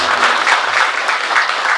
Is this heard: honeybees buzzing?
no